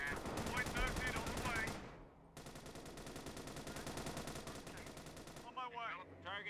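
Rapid machine gun fire in a World War I strategy game set in 1918, steady bursts with some voice-like sounds near the start and end, constant and fairly loud throughout, dropping briefly in the middle.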